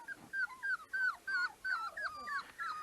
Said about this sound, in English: but they are beautiful little puppies